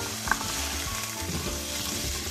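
Small shallots sizzle steadily in hot oil for a Kerala-style kodampuli fish kuzhambu, a continuous close frying hiss with a faint clink near the start and no voices.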